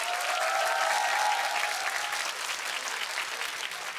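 A studio audience at a televised singing competition applauds loudly to welcome a duo, a dense, steady wash of clapping that fades slightly toward the end.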